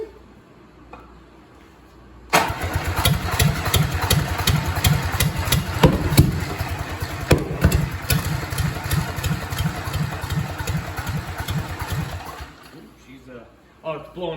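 A Willys flathead engine, overhauled with used parts, fires up after a quiet start and runs with a steady, loud rhythmic chug, then cuts off near the end; people talk over it.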